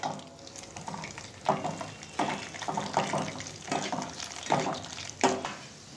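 Cashews and raisins frying in hot ghee for a vermicelli sago kheer, a steady close sizzle with repeated louder bursts as the pieces are stirred around the pan.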